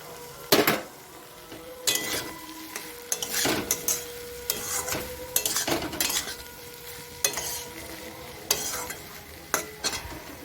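Prawns sizzle in a frying pan with taro stolons while a utensil stirs them, producing a soft, steady hiss broken by repeated sharp clanks and scrapes against the metal.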